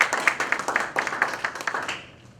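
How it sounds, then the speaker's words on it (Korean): An audience at a public forum on the Guui Station accident gives a short round of hand clapping, with brisk, uneven claps that fade after about two seconds. "힘찬 박수 부탁드립니다."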